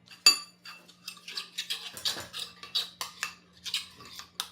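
A spoon stirring salmon miso ingredients with ginger in a bowl produces a quick sharp clink and then a steady series of close metallic scrapes and taps.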